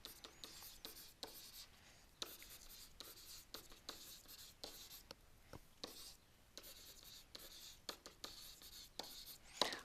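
Pen scratching on paper while Spanish verb forms are written out by hand, a quiet, continuous series of short strokes and rubs close to the microphone.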